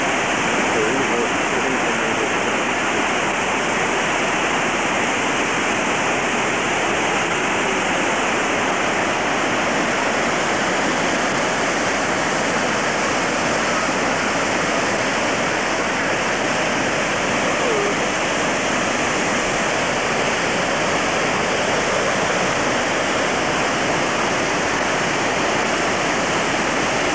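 The Snake River in Idaho flowing, a loud, continuous broadband rush of moving water, steady and close throughout with no break.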